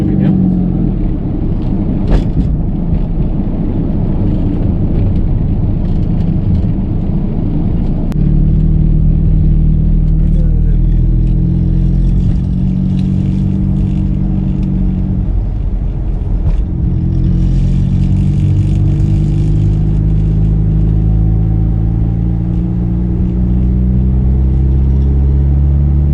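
A 2020 Honda City sedan cruising on the road, its engine and tyre rumble steady and close throughout, with a voice speaking over the low drone.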